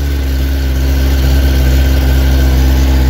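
A grey Kawasaki ZX-10R motorcycle on its standard exhaust idles steadily up close, a loud, even low rumble with a constant drone and no talking.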